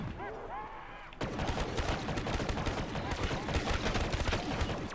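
Rapid sustained gunfire mowing down zombies in a video game, a dense loud stream of shots that begins abruptly after a brief quieter lead-in and continues to the end.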